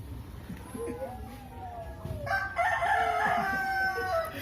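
Birds call repeatedly, with crowing, rooster-like cries close by around a small child, while people's voices murmur in the background.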